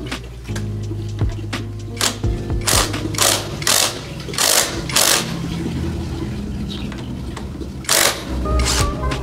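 An impact tool loosening 14mm bolts on the brake disc of a Yamaha Aerox v2 scooter, firing in repeated short loud rattling bursts with brief pauses between, close up over a steady background hum, no talking.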